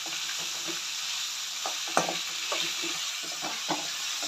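Two onions with a little salt fry in a pan for Andhra gongura pappu. A close, steady sizzle carries repeated scraping strokes of a spoon stirring, with one sharper knock against the pan midway.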